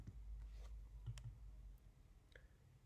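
Computer mouse clicks on a desktop during graphic design work, a few soft, isolated taps over a low room hum with no voices.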